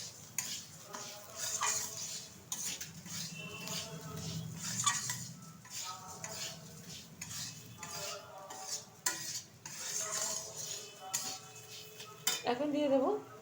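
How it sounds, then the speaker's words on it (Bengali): A spoon stirs rice, lentils and turmeric in a pot while making khichuri with three kinds of dal, giving close, repeated scraping and clinking against metal in an irregular rhythm, fairly faint. "ভালোভাবে এবার চালের সাথে আর ডালের সাথে মিশিয়ে নেব।"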